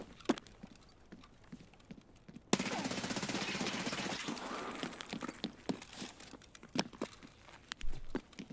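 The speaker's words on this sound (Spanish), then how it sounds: "Qué raro cómo suenan las balas" Rapid gunfire in a Halloween event of a video game, a dense continuous burst of shots lasting a few seconds, loud and close, followed by scattered sharper single cracks and clicks.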